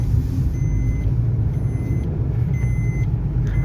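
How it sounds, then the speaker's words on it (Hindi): A Maruti Suzuki Ignis is driven out of a workshop after a full service: a loud, close low engine rumble with a repeating high electronic beep, like a reversing alert, pulsing at regular intervals. "सो फाइनली गाइस, गाड़ी को हम वर्कशॉप से बाहर निकाल रहे हैं"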